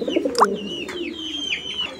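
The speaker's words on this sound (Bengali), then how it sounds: "এটা ডাকের কোয়ালিটি দেখেন, এটা এতটাই ডাকে" A pigeon from a pair offered for sale calls with a rounded coo and a couple of short calls near the start, then quieter bird chirps over a steady low background.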